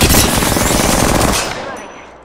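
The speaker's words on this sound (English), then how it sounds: "Getting shot at." Dense, loud automatic gunfire in Apex Legends roars as a continuous rapid burst, then tails off and fades out over about a second.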